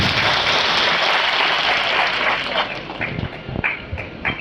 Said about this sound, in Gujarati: તો પ્રથમ તો આપણે જોરદાર તાળીઓથી વધાવી લઈએ એમને